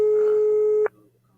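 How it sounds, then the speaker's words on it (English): An outgoing phone call gives a steady electronic ringback tone that holds for under a second and then cuts off abruptly, leaving a low, faint line hum. "So the phone is ringing."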